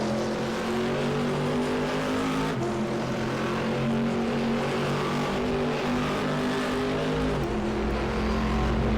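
A GT race car at the Linas-Montlhéry circuit running steadily at high revs against the rev limiter, a loud, sustained engine drone with a brief stutter partway through and no talk.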